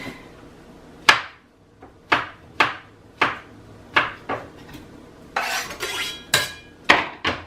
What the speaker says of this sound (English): So I'm going to wash and cut up a mushroom to get the ball rolling